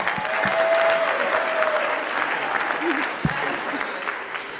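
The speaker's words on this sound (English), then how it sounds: "let's give a round of applause for how beautiful and handsome the bride and groom look tonight" Wedding guests applauding the bride and groom at a reception, a sustained roomful of clapping at moderate loudness with a few voices and cheers mixed in.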